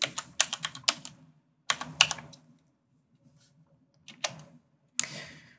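Word typed on a computer keyboard: quick bursts of crisp, close keystrokes separated by short pauses, with no talking.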